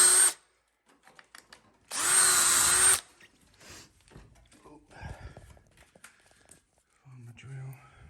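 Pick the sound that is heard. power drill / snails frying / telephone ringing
power drill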